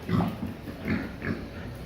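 Piglets grunt and squeal in short, repeated bursts close by on a farm during vaccination, the calls coming in uneven pulses.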